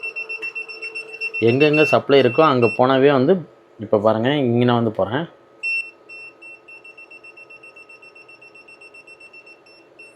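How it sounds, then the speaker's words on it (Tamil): A TOOL TOP X5 AC/DC clamp meter's non-contact voltage detector beeps near a live wire. Someone talks first, then the meter gives a rapid, steady train of short, bright beeps. "அந்த பீப் சவுண்டு வந்து வர ஆரம்பிச்சிடும்"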